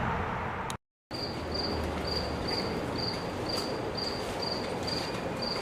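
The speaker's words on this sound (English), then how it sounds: "the cricket's real loud this morning in the rain" A single cricket chirps loudly and steadily in regular short pulses close by, over a continuous hiss of falling rain, with one brief dropout of total silence near the start.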